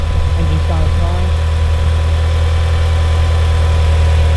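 A Mitsubishi EVO 8 engine idles steadily with a newly installed Mishimoto oil cooler, a loud continuous low rumble heard up close with no talking over it.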